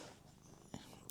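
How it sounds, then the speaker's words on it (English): A cat purrs close by, a faint, soft low rumble in a very brief moment of quiet. "The audio's gonna be so bad because you're purring, right?"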